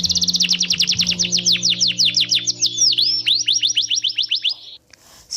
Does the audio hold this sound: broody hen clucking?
no